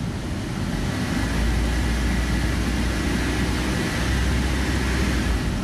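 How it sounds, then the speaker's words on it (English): A car engine revs steadily during a tool and diagnostic check, a loud, sustained low rumble that holds for several seconds with no talking. "Now we'll rev it."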